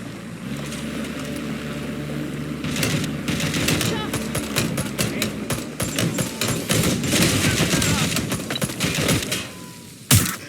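Gunfire in Watch Dogs: Legion during a police pursuit, a dense run of sharp cracks and bursts from about three seconds on, layered over engine and water-like rumble with intermittent talk.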